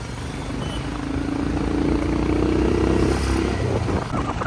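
A motorcycle rides along a road with its engine humming steadily and the pitch rising slightly as it speeds up, mixed with a constant rush of wind, close and continuous.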